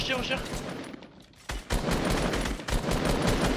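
Rapid gunfire from a battle royale video game during a competitive esports match, bursts of shots rattling over continuous game noise, with players' voices in the mix.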